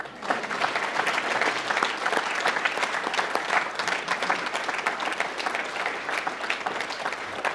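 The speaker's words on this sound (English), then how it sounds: "Now it's signed, we can all clap." An audience claps after a declaration is signed, a full, sustained wash of many hands at even loudness from start to finish, with no talk over it.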